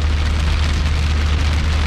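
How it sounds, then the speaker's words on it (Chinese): Heavy rain mixed with small hail drumming on the roof and glass of a moving car on a wet road, a dense continuous patter over a low engine and road rumble. "感觉有点小冰雹"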